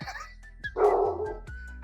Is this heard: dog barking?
yes